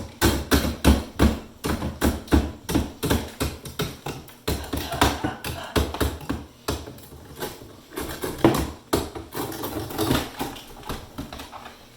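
Clogged ice being knocked loose inside a Samsung refrigerator ice maker, a steady run of rapid hard taps and knocks close up, continuing without pause and with no talking.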